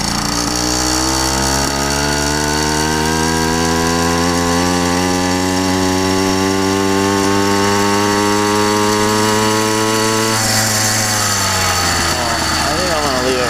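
A small YD100 engine runs loud and close after tuning, its buzzing drone rising steadily in pitch over several seconds and then dropping back near the end, with no pauses.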